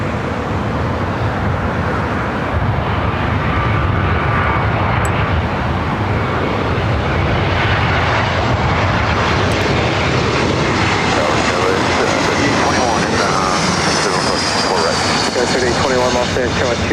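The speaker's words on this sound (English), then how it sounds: "American A321 coming from Dallas" An American Airlines A321 arriving from Dallas–Fort Worth lands at LAX, its jet engines making a loud, steady roar that fills the whole stretch, with people talking over it.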